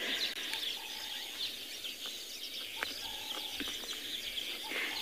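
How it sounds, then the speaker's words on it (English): Weaver birds chatter and call in the South African bush during a morning safari, with repeated short chirps and buzzy notes scattered over a steady background of insect hiss and faint low rumble. "Mary, you love listening to these birds, I know. Me too. Something very, very special about weavers"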